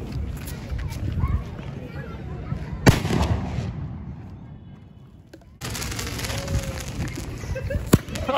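Hand-held firecrackers burst with sharp, loud cracks at intervals over steady outdoor background noise, with people's voices around them.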